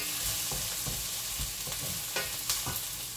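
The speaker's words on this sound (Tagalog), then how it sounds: "nagigisa kami talaga ng sibuyas at ng bawang na maayos, yun talagang ginigisa namin yung maayos" Onion and garlic sautéing in a pan for lechon paksiw, a steady close sizzle broken by scrapes and taps of a stirring utensil, with no voices.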